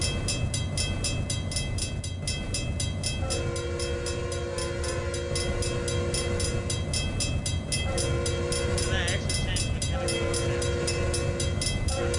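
A steady, loud train bell from the video game Tane rings in repeated bursts over a constant mechanical rumble, with no voices.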